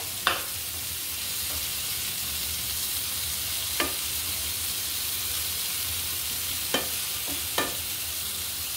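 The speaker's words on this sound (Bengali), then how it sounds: "পটলগুলো ভাজা হতে থাকুক, একটু পর আমি আবার আসছি।" Pointed gourd coated in turmeric and salt frying in a pan, a steady close sizzle with a few sharp pops or clicks scattered through it, no talk.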